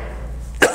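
A single short sharp cough near the end of a quiet stretch with low hum, close and loud.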